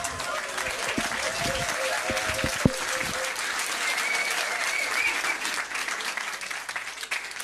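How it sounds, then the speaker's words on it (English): A pub quiz crowd at The Yard claps warmly for a team, with a few sharp close claps and murmuring voices early on before the applause settles into an even, sustained patter. "Give them a round of applause."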